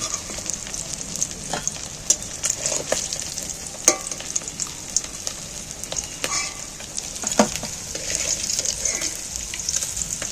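Fish pieces frying in hot oil, a steady close sizzle with scattered crackles and pops running throughout, with no voices.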